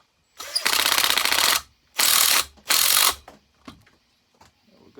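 A ratchet with a 10mm socket tightening head bolts on a Husqvarna 1100CD, three loud close clicking bursts in quick succession followed by a few faint taps.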